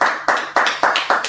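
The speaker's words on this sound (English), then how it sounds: "And then with that, clap it up." Five loud, close hand claps in an even rhythm, each crisp and sharply separated.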